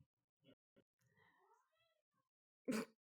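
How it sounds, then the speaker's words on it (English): A pet cat gives a single short, loud meow up close near the end, after a few faint quiet sounds in a hushed room. "If you guys can hear my cat"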